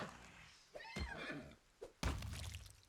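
A horse whinnies in the fantasy RPG Pathfinder: Wrath of the Righteous, a short neigh set among thuds and game sound effects, with a brief burst of noise near the end.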